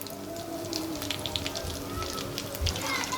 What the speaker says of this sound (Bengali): এখন একটা একটা করে চিকেন দিয়ে দিব।